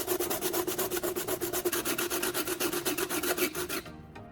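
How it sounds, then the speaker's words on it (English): Sandpaper rubs rapidly back and forth across the bottom of an aluminium Coca-Cola can, roughly twenty quick rasping strokes in a steady rhythm, close and clear, before stopping abruptly near the end. "I sand the bottom of the can using sandpaper to gradually thin"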